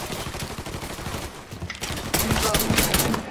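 Gunfire in the video game Mafia III comes as dense, rapid bursts of shots that crackle close and loud, swelling into a heavier volley toward the end.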